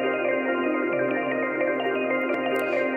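Dense sustained sample droning steadily through a Serum noise oscillator, a thick buzzing harmonic tone with a few faint pitch glides and small transient ticks near the end, loud and continuous without talk.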